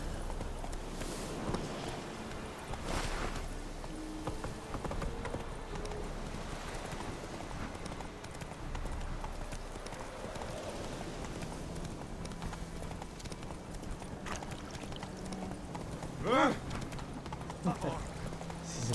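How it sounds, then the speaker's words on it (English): In The Witcher 3, a horse's hooves clip-clop steadily through the game's ambient sound, moderately close, while someone talks intermittently over it. "Este es el caballo. Vamos a llevarlo."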